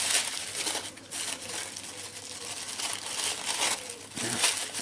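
A package being unwrapped up close, with bursts of crinkling paper and plastic and tearing rustles that come and go in uneven waves.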